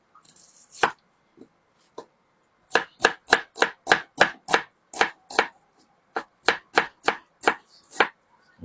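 A knife chops through a whole, fairly large peeled onion on a board, a quick run of about fifteen crisp, evenly spaced cuts after a few scattered opening strikes, close and clear with no talking.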